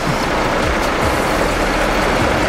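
Haryanto bus number 084 at Pondok Pinang terminal: a loud, close, steady diesel engine rumble with a dense low throb, continuous and unbroken throughout.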